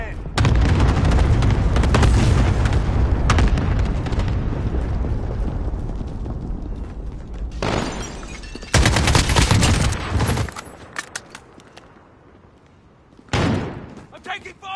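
Call of Duty: Modern Warfare battle gunfire: dense, loud volleys of automatic shots and booming blasts, fading to sparser fire before a final sharp burst, with game voices calling out.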